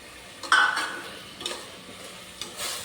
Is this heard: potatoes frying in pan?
yes